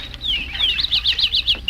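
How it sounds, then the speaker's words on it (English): Small birds splash and flutter in a bird bath on a front lawn on a bright morning, sharp repeated chirps and quick wing flaps close by over a quiet background. "outside on the front lawn, we hear the splashing of birds in the bird bath."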